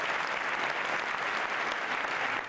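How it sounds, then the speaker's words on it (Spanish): A dense, steady wave of applause fills a political party congress hall in Spain, greeting Pablo Casado and sustained without a break from start to finish. "Y quizás por eso recibió su último gran aplauso."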